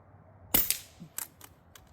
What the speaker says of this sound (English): This Pinty rifle that I just got today with cheap novelty Crossman copper magnum pellets.